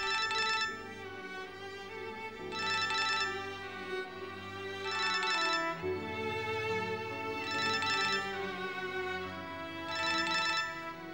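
A phone rings in a repeating pattern, five bright bursts spaced about two and a half seconds apart, sounding over a background music bed with no talking.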